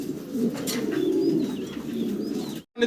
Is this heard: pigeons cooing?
yes